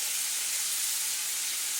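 Steady, bright hissing sizzle of shrimp frying in butter in a hot pan, continuous and close, with no voices.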